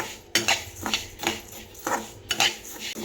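Rice being dry-roasted over low heat in a pan, stirred steadily so a utensil scrapes and clatters against the metal in repeated rhythmic strokes, close and clear.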